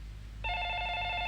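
A telephone rings in a room in a 1990 Indonesian film, its steady electronic trill starting abruptly after a near-silent pause and holding loud and unbroken to the end.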